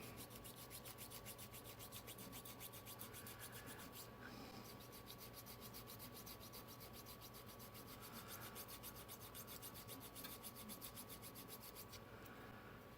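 A sanding stick rubs steadily back and forth over the bodywork of a 1957 Chevrolet Bel Air hardtop model, a close, continuous scratchy scraping with fast regular strokes and brief pauses.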